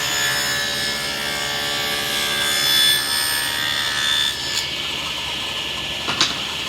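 A table saw cuts a groove along the length of a board, set for an 1/8 inch kerf, giving a steady, loud whining blade drone that holds throughout and ends with a brief knock near the close.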